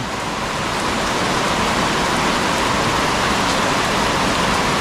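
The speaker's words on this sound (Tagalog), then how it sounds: "Malakas po ang ulan ngayon" Heavy rain pours down steadily, a dense, constant hiss of drops with no pauses and no voices.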